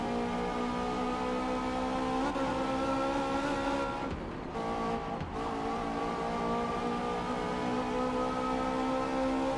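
A Zenvo TSR S roars steadily around the Green Hell track in Forza Motorsport, with a sustained high engine drone, a brief dip around midway as the driver lifts off, then full power again.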